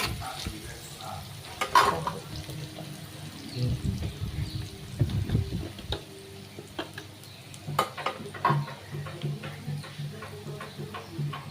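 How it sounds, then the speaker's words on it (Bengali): Fish frying in a pan with turmeric, a steady sizzle with stirring and scraping, fairly close, punctuated by occasional clinks. "মাছটা বেশি ভাজবো না হালকা কাছাকাছি রাখবো হালকা একটু হলুদ দিয়ে দিলাম"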